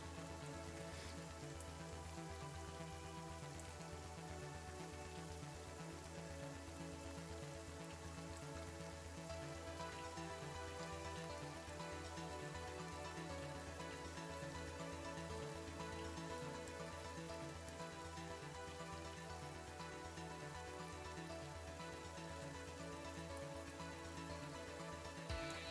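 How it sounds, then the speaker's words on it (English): Steady, even rain falls without a break as background ambience for a tabletop RPG session. It is a constant wash of patter at a moderate level with no voices over it. "It's hard to hear with the rain."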